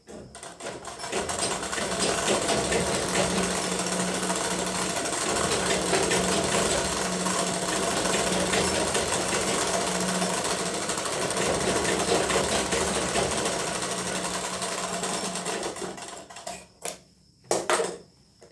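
A sewing machine stitches the side slit of a kurti, humming steadily and loudly up close for a long run before slowing into a few short final bursts.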